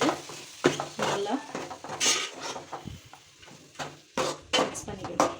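Four sliced medium tomatoes added to a pan of fish biryani masala and stirred with a metal spoon, giving repeated scraping clinks against the pan over a soft sizzle.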